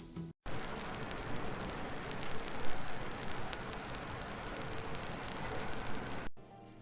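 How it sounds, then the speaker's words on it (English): A grasshopper's chirping forms a dense, continuous high-pitched buzz that starts abruptly and holds steady and loud for about six seconds before cutting off, with no voices. "The grasshopper chirps in summer."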